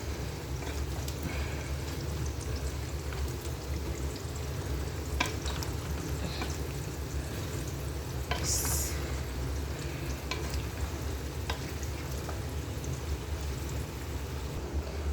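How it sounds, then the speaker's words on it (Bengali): Meat and sweet pumpkin fry and stir in a pan, with a steady close sizzle and occasional scraping strokes of the spoon, no talking. "মাংসটা কষানো হইতে আছে।"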